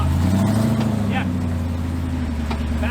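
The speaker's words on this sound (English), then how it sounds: "Give her a little gas, get on up on that rock again." An off-road vehicle's engine drones steadily and loudly as it works to climb a rock on a rugged trail, a low sustained rumble with slight rises in revs and a few faint clanks throughout.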